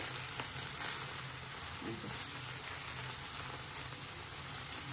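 Water lily stems (shapla) fry in a pan with a steady, even crackling sizzle that runs unbroken throughout, soft and close with no voices.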